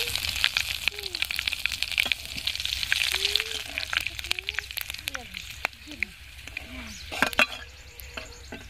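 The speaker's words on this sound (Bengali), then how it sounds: "গোটা মশলা ফুটে গেছে" Whole spices (bay leaf, cumin, garam masala, dried chili and mace) sizzle and crackle in hot oil left over from frying potatoes, a steady spitting hiss with scattered pops and faint chirping squeaks, close and fairly loud.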